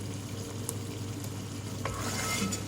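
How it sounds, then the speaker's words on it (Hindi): Potatoes and a few small green chillies fry in spiced masala for aloo yakhni pulao, giving a steady, moderate sizzle with a few faint stirring clicks near the end. "मसाले के साथ भूनेंगे आलू को, ताकि आलू फीके फीके ना लगे, इसमें भी मसाले का टेस्ट आ जाए अच्छा सा"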